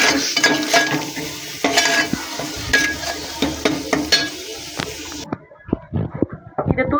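Masala with turmeric frying in oil crackles loudly while a utensil scrapes and knocks against the pan in repeated bursts; near the end the sizzle drops away and only scattered knocks and clatter remain.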